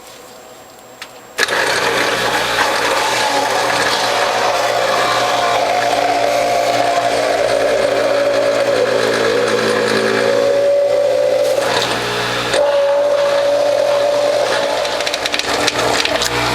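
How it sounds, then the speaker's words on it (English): Carrots are fed through an electric juicer fitted with a 1/8 inch hole screen, its motor whirring loudly and continuously, the pitch dipping and shifting as pieces are pushed in, with a brief pause near the end. "now we'll do the rest of my carrots and then make some juice"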